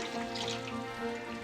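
Water poured into a pan of frying ground masala for a village-style egg curry, giving a soft, steady trickling and sizzling wash at moderate level, close by and without talk.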